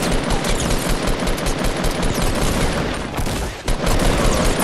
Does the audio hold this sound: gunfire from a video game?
yes